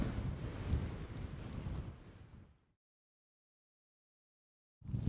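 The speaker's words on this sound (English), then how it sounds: "This wind is just not letting up." Strong gusty wind buffets a campsite while a pop-up tent is pitched, a loud rushing roar that fades out into silence before a fresh gust bursts back in at the end.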